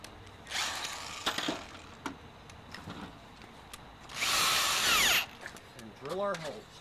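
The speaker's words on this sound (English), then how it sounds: "drill our holes" A power drill whirs in short bursts between sparse speech while drilling holes to install a roof panel cover on a 1993-2002 F-Body car, then runs in a longer, louder spell before winding down.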